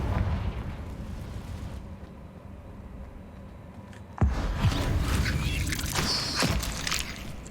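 A fire-blast spell explosion in the video game Hogwarts Legacy: a sudden loud blast erupts after a quieter lull, followed by a rumbling, crackling burst that fades out over a few seconds.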